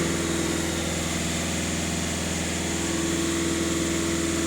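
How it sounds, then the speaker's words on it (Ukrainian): A VW Caddy 2.0 TDI EA288 diesel engine held at full throttle, giving a loud, steady, unbroken drone with a strong sustained tone, close up and with no talking. "на обертах, даю газ в пол"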